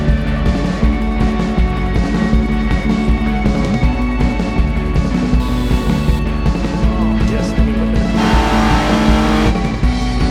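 A Porsche Carrera C4S drives along, its engine running steadily close by with shifting revs and tire noise, a bright burst of road or wind hiss near the end, and no speech.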